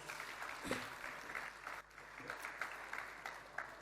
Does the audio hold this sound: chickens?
no